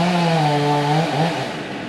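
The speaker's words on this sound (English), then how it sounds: "Cutting the limbs off of some of it." A chainsaw whines loudly at high revs as it cuts limbs off a felled tree, its pitch dropping as the cut slows before the engine eases off.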